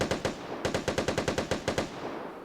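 Rapid automatic gunfire from an unidentified weapon that is not an L85 rifle, in the online shooter Vigor: about a dozen sharp, evenly spaced shots in quick succession, fairly loud and close, with no talking.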